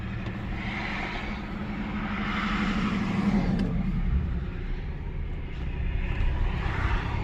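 A 2003 Lincoln Town Car with 140,000 miles drives along, its engine a steady low rumble under broad road and wind noise that swells slightly midway, sustained and fairly loud, with no talking.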